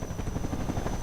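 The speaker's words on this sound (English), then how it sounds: "Oh, the chopper's there." Helicopter in the video game Half-Life 2, a steady low rotor thrum with rhythmic chopping pulses, loud and continuous throughout with a constant high whine above it.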